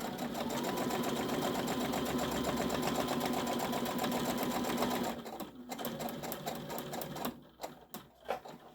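A sewing machine runs steadily as it stitches a quilted pot holder lined with Insul-Bright, holding an even, continuous whir for about five seconds before it breaks into short, uneven bursts and stops.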